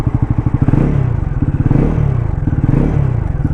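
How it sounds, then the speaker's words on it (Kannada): Exhaust of a Bajaj Pulsar NS400Z motorcycle throbs at close range in a loud, rhythmic idle, with slight swells and dips in pace across the few seconds. "ಎಕ್ಸಾಸ್ಟ್ ಸೌಂಡ್ ಈ ಥರ ಕೇಳಿಸುತ್ತೆ."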